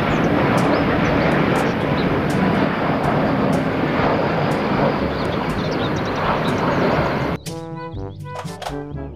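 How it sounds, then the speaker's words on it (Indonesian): A loud, steady roar of an airplane engine fills most of the clip, then stops abruptly, leaving faint scattered sounds. "Pesawat terbang."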